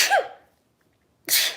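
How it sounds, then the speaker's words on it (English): A single sneeze caused by allergies to flowers, a sharp close burst that tails off, followed by silence and then a second breathy exhale or sneeze. "Oh, I have to sneeze."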